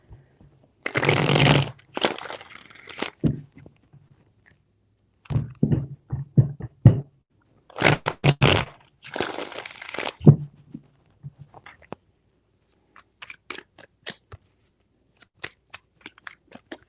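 Tarot cards being shuffled by hand, several crisp riffling bursts separated by pauses and softer taps, close and clear with no talking.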